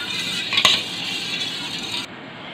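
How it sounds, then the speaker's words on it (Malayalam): A spoon clinks and scrapes against a glass or bowl while pulinjikka syrup is stirred into cooled sugar syrup, with one bright clink near the start and soft continuous swirling afterward. "നന്നായിട്ട് ഇളക്കി യോജിപ്പിക്കുകയാണ്."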